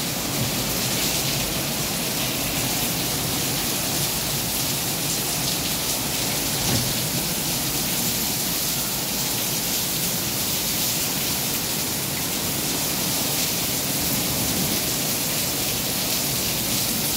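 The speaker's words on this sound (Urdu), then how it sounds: "بسیار تیز بارش است." Heavy monsoon rain pours down in Islamabad as a loud, unbroken roar of dense downpour that runs steadily throughout with no voices over it.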